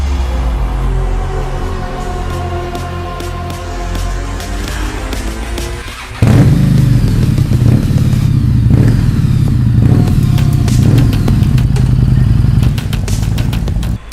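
A Harley-Davidson Street 750 motorcycle engine idles steadily up close, then rises sharply in level around the midpoint and holds a loud, throbbing run to the end, with no talking.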